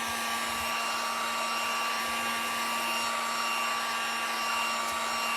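A hair dryer blows on painted wooden craft planks to dry the paint, making a loud, steady whooshing roar with a constant whine that holds unchanged for the whole stretch, alone with no voices.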